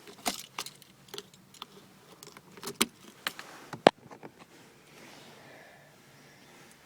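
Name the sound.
car key inserted into ignition of 1997 Skoda Felicia pickup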